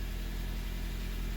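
A car engine idles with a low, steady hum and faint mid-range rumble, close by and even throughout, no voices over it.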